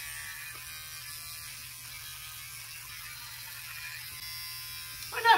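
Electric razor buzzing steadily and close while trimming a beard into a monkey tail style, a constant low motor hum running the whole time with a brief louder rattle at the very end.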